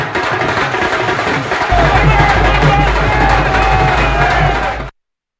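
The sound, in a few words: crowd cheering at BJP headquarters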